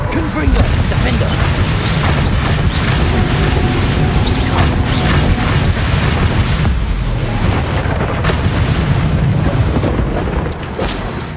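Confringo fire spell explosions in Hogwarts Legacy, a dense, continuous battle roar of booming blasts and rumbling impacts filling the whole stretch at high volume, with crackling bursts on top.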